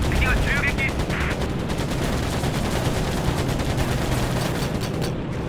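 Rapid machine gun fire from a fighter plane in the Pacific air combat game Air Conflicts: Pacific Carriers, a dense continuous loud rattle lasting throughout with engine drone beneath.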